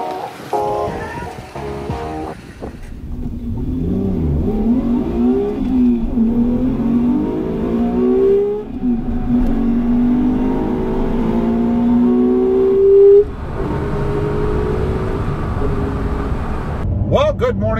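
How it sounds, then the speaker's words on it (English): A Toyota Tacoma pickup with a manual transmission pulls hard through the gears, its engine revs climbing, dropping at each shift and climbing again, steady and close from inside the cab. "doing a little spirited driving in my Toyota Tacoma because, frankly, I enjoy doing it. I enjoy running through the gears fast"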